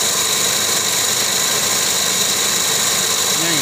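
Toyota Vios engine idling steadily after a misfire fix, an even continuous hum with broadband hiss and no stumbling, close and constant throughout.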